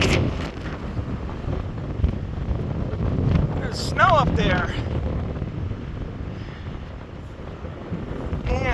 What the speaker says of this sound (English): look how windy it is. Well, you can hear it, I'm sure